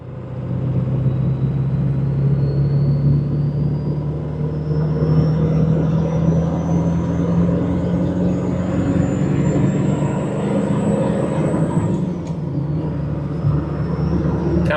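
A Ford F-350 pickup truck revving with its turbo whistling, bought cheap at auction; a loud, steady engine drone with a high whine rising slowly over about twelve seconds, then dipping briefly and climbing again.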